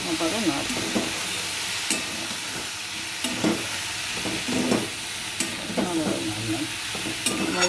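Spices are stirred into a frying fig and potato curry, with a steady loud sizzle and hiss and repeated scraping strokes of a spatula in the pan, close and continuous with no talk.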